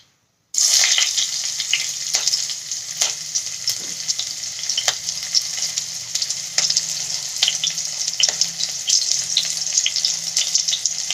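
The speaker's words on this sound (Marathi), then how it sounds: "आता तेल गरम झालेलं आहे, त्याच्यात मी आधी मिरची टाकते." Green chillies drop into hot oil in a pan and sizzle loudly and steadily after a brief silent start, with intermittent crackles and pops close by, no speech.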